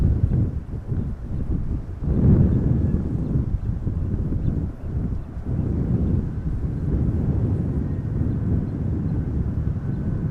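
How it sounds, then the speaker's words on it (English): A Delta Airlines airliner lands at Amsterdam Schiphol Airport, heard as a steady low, distant jet roar with a brief swell, overlaid with gusty wind buffeting the microphone throughout. "after this airplane has landed"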